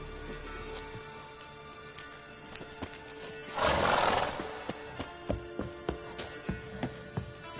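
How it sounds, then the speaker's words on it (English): A horse whinnies loudly, then hooves clip-clop in a steady rhythm against faint background noise and a low hum, in The Witcher 3: Wild Hunt. "Oi, clumsy horse."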